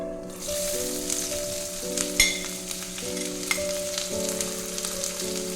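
Onion sizzling in hot oil with panch phoron and bay leaf, a dense continuous crackle with a sharp spatter burst partway through and light stirring, over a steady background hum.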